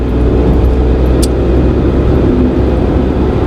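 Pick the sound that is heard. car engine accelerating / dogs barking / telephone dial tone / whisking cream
car engine accelerating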